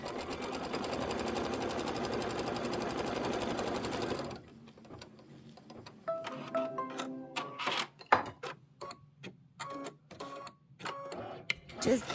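A sewing machine stitches steadily across the zipper edge of a padded crossbody bag thick with batting, a continuous run for about four seconds, then stops and gives way to quieter handling clicks and taps.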